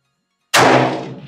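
A rifle fitted with a PSA FN premium barrel fires a single loud, close shot that cuts in sharply from silence and rings out with a decaying tail.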